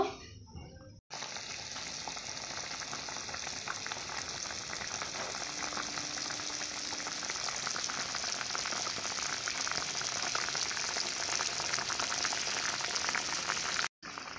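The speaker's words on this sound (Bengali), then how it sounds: "আলু অনুযায়ী জলটা দিয়েছি, দিয়ে এইভাবেই ফুটিয়ে নেব।" Potatoes boiling in a pot of water for a vegetarian potato dish, giving a steady, dense bubbling hiss that runs unbroken and fairly close, with no talking.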